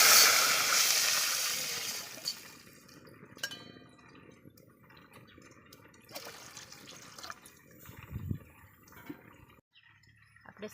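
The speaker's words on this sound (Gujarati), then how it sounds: "જીરું પણ આપણે ફૂટી જાય એટલે એમાં નાખી દેવાનું છે આપણે પાણી." Water is poured into hot oil with crackled cumin seeds to start rice cooking. A loud hissing splash fills the first two seconds and then fades to a quiet bubbling simmer with a few faint clinks of utensils.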